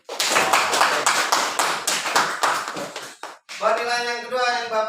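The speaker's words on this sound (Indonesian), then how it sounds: "Tepuk tangan dulu." A school class claps hands together in a quick, even rhythm for about three seconds, loud and close, and then a voice starts speaking once the clapping stops.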